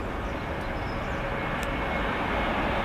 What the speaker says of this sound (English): Next up, British Airways A320.